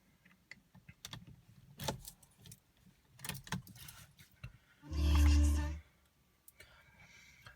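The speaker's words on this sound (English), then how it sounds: "So I'll just pop the key in" Key slid into the ignition of a Citroën DS4 from the driver's seat, a few faint jangles and clicks followed by one louder, brief whirring burst, quiet cabin otherwise.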